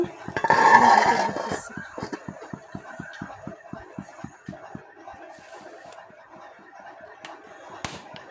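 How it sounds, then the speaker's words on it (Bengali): A lid clatters loudly onto a cooking pot holding a thin shingi fish curry with home-grown vegetables, a short metallic clang followed by a steady run of soft, evenly spaced ticks and light rattles. "এখন ঢাকনাটা দিয়ে দিতেছি"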